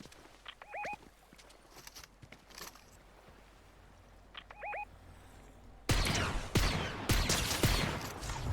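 Gunfire in the Fortnite video game aimed at the player: a loud burst of dense shots erupts in the final seconds, preceded by quieter distant ambience with a few faint chirps.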